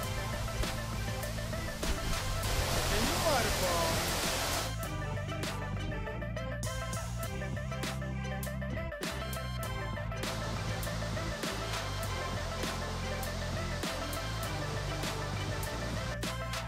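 Steady roaring rush of falling water fills the whole clip, loud and close, with a brief hiss of spray at the start before it settles into a constant wash.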